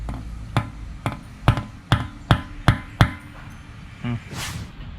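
Seven sharp metallic hammer blows drive a screw extractor into a broken engine bolt on a Honda Civic FD, steady rhythm, close and loud, followed by a softer knock and a brief rustle.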